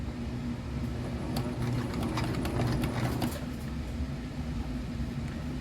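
A sewing machine stitches a fabric seam with about a quarter inch of seam allowance on a rock sack, a steady mechanical whir running continuously under a dense background hum.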